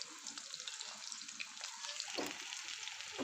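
Beef tikia patties fry in a pan over a low flame, a faint, airy, steady hiss with a light crackle, heard quietly at a distance and with no talking.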